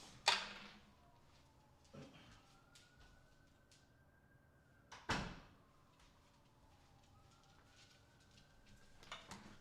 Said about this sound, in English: Let me close the closet door.